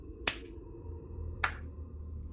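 A slow clap during a tabletop role-playing game session: two sharp, separate hand claps just over a second apart, crisp but fairly soft, over a quiet room hum.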